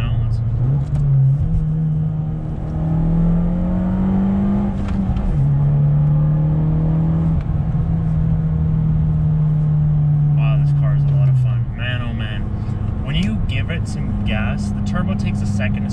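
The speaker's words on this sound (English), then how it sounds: "This car has one of the best sounding exhausts on a car that I've ever driven in my entire life" Fiat 500 Abarth in sport mode, its exhaust droning and rumbling loudly from inside the cabin as the engine revs up and settles, while someone talks over it throughout.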